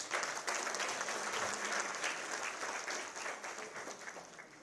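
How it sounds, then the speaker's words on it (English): An audience at a formal government interactive session on Delhi's 2041 plan breaks into sustained applause, dense and steady at first, then gradually thinning and fading over a few seconds. "A big round of applause, please."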